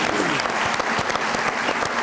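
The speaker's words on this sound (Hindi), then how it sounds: "बहुत सारी तालियां अरमान साहब" Studio audience applause on a Pakistani late-night comedy talk show, a dense steady wash of clapping filling the whole two seconds without a break.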